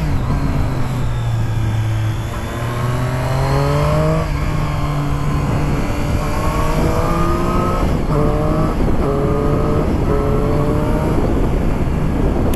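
A Triumph Street Triple S 660 motorcycle engine revs loudly and continuously close by, its pitch climbing and falling through repeated rises across several gear-like sweeps, with wind rush underneath and no talking.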